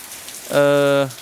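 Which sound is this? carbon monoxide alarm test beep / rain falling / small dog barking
rain falling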